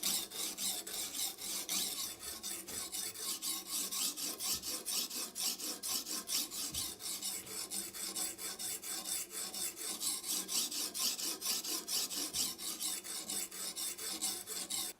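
A knife blade grinds back and forth on a coarse grit sharpening stone wetted with liquid, a continuous gritty rasping in quick, even strokes that carries on close-up without pause.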